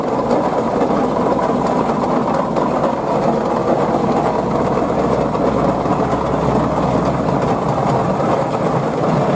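A steam ploughing traction engine runs at a vintage country show in Gloucestershire, giving a steady, rumbling, rhythmic mechanical clatter that carries on evenly throughout, with outdoor background noise and no speech.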